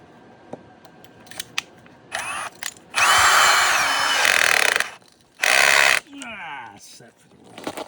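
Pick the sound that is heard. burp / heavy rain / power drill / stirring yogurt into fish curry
power drill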